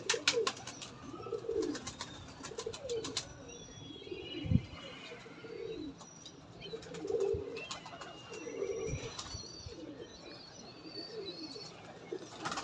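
Black Moti pigeons coo softly in repeated low, rolling phrases at a moderate distance, with brief pauses between calls and a few faint chirps and knocks in the background.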